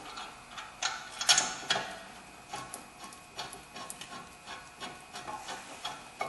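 On a 2004 Kia Spectra, 14 mm brake bolts are tightened with a ratchet, producing quiet clicking ratchet strokes and metallic rubbing in irregular bursts, faint and close.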